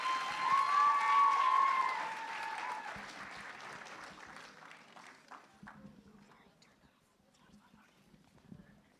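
Applause from an audience after a Hindi song performance at a college mela, loud at first with cheering and an instrumental tone, then fading into scattered clapping over the next several seconds.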